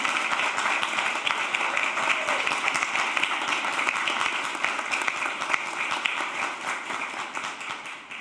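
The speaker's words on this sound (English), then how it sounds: "Let's give them a big round of applause." Sustained, dense applause from a graduation ceremony audience cheering students of the 2022 urban studies class, steady and full for about eight seconds with a slight fade at the end.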